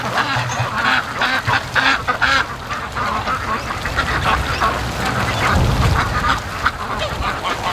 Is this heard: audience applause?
no